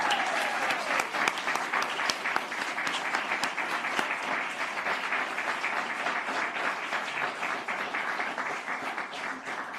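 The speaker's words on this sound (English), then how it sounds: "I think we need another round of applause for these amazing ladies up here." A gala audience at the Windsor Shad Derby applauds for nearly ten seconds, many hands clapping in an even, sustained wash that fills the room, with no voices standing out.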